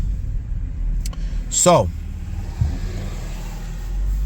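A 2020 Ford Fusion SE Hybrid drives along with a low, steady road and engine rumble under someone talking. A brief squeal rises and falls over the hum partway through.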